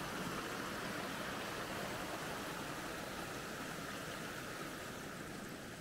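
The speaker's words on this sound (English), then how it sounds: "There is a creek running here." Creek water runs at the wet western edge of a farm in Andalusia, Spain, near the end of a swale system, giving a steady, faint, continuous wash with no voices over it.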